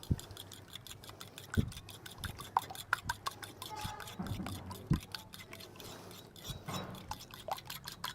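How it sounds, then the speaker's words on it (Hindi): Yogurt whisked in a bowl for a paratha batter, producing rapid, regular light ticking and clicking from the utensil against the bowl, close and soft throughout. "अब इनको अच्छी तरह से हम फेंट लेंगे।"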